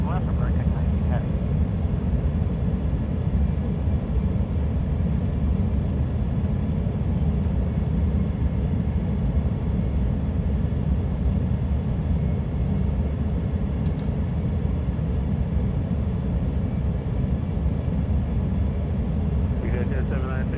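An airliner jet rolls down the runway for takeoff, its engines making a loud, steady roar that holds for the whole stretch without letting up.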